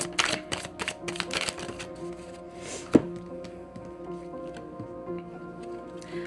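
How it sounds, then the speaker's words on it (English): Tarot of Sexual Magic cards being shuffled by hand in short, crisp riffling bursts near the microphone, followed by lighter taps and a single dull thunk as the deck is handled. "I'm gonna get some cards from the Tarot of Sexual Magic here."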